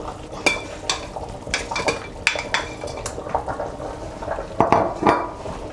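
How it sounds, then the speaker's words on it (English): Meat and smoked fish being stirred together in a metal cooking pot for ogbono and okra soup, with repeated scraping, clinking utensil strokes against the pot in an uneven rhythm, close and fairly loud, no talking. "I'm trying to mix the meat with the smoked fish together to cook again"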